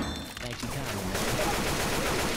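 Rapid teammate gunfire in the co-op zombie shooter Left 4 Dead 2, a dense, sustained burst of shots that grows louder and fills the whole stretch, with faint voices mixed in.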